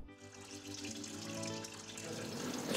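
Water pours steadily into a schnapps still loaded with plums for distilling, a continuous close splashing rush that swells slightly toward the end.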